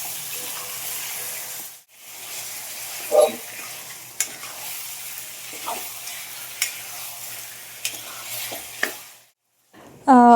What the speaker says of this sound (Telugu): ఉప్పు పసుపు వేసి అల్లం వెల్లుల్లి పేస్ట్లో ఫ్రై చేసుకున్నాం కదా నీచు నీళ్ళు పోయే వరకు ఫ్రై చేసుకొని